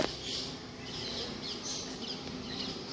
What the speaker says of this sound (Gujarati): ચકલીઓનો ચીનો અવાજ આવે ને